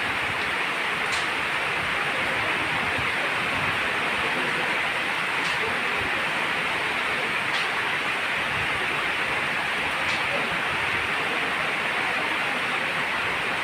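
Steady rain pours down as a dense, even hiss throughout, close and loud, with a few faint tapping ticks scattered on top.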